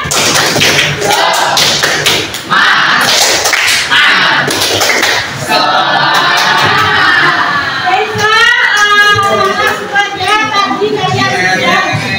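Group rhythmic clapping cheer (tepuk semangat) at the close of a school coaching session, a crowd of hands beating out loud, busy patterns with voices and shouts mixed in throughout.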